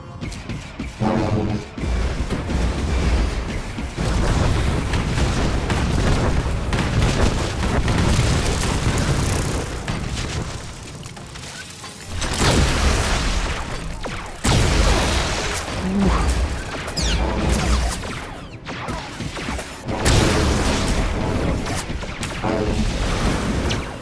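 Missile explosions from a walker in the SWTOR video game during the War for Iokath battle, loud repeated booming blasts and crashes one after another, dense and sustained with brief dips between volleys.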